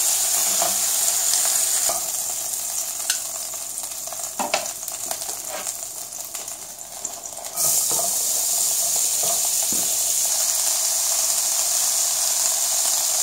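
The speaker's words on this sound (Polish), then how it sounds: "wrzucimy cebulę i delikatnie zeszlimy" Onion sizzling and frying steadily in a pan after pork ribs come out, a loud continuous hiss close by with occasional stirring clatter.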